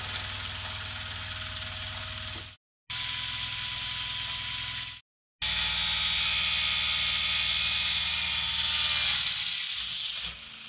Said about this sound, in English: I run the gearbox at about 5000 RPM for a while.